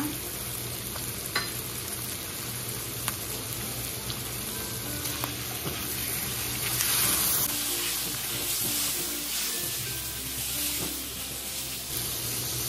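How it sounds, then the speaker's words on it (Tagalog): Chicken liver, gizzards and heart sizzle steadily in hot oil, a dense continuous frying hiss with occasional stirring scrapes, close and alone without talk. "Ngayon isi-stir lang natin dito sa mantika"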